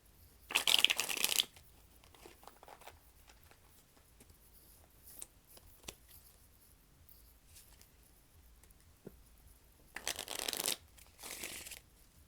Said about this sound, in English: Just a few more shuffles.